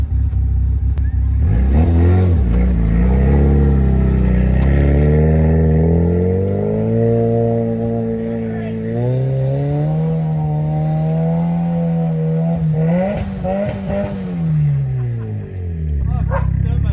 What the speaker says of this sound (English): trying to get his car out